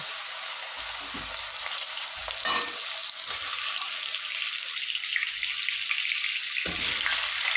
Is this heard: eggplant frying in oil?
yes